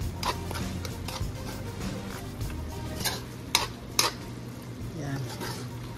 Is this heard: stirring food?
yes